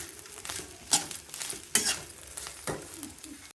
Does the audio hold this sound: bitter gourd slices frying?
yes